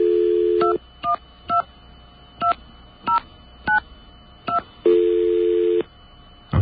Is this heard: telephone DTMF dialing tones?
yes